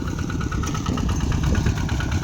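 A tractor idles in a rice field during plowing, with a steady, close mechanical chugging and vibrating rattle that runs alone throughout.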